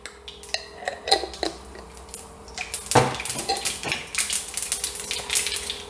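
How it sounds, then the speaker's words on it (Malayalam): Mustard seeds splutter in hot coconut oil in a pan: irregular sharp pops and crackles, sparse at first, then a denser run of snapping bursts. "ഇതിലേക്ക് 1 ടീസ്പൂൺ കടുക് ഇട്ട് പൊട്ടിക്കുകയാണ്."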